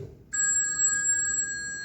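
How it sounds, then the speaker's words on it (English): A telephone bell rings steadily and close by, starting after a brief quiet moment and continuing unbroken. "I must have fallen asleep because the phone woke me up."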